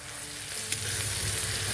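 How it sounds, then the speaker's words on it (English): Noodles, seasoning and vegetables stir-fry in an outdoor kitchen, a continuous loud sizzle with a brief scrape of stirring partway through. "we're just gonna stir fry everything"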